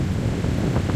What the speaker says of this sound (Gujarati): કેવી મજા આવતો કેવો પવન આવે